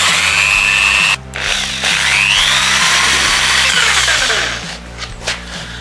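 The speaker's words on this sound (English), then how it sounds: "Drill seizes." A power drill driving a screw through perspex whines at close range, its motor pitch sagging and stalling as it seizes, then cutting out and straining again in short bursts.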